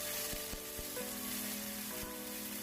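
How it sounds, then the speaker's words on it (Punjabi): A paste of tomato, green chili and ginger fries in a pan, giving a steady soft sizzle close up with a few light clicks and taps of stirring. "ਜਿਹੜਾ ਪੇਸਟ ਬਣਾਇਆ ਸੀ ਇੱਕ ਟਮਾਟਰ ਇੱਕ ਹਰੀ ਮਿਰਚ ਤੇ ਥੋੜਾ ਜਿਹਾ ਅਦਰਕ ਉਹ ਆਪਾਂ ਇਹਦੇ ਵਿੱਚ ਪਾ ਕੇ ਚੰਗੀ ਤਰ੍ਹਾਂ ਭੁੰਨ ਲਵਾਂਗੇ"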